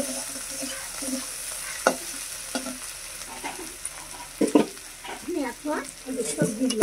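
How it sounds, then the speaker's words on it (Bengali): Small river fish fry in oil in a pan over steady background sizzle, with scattered stirring clinks and scrapes, busier toward the end. "এগুলো লাল লাল করে ভেজে নিচ্ছে।"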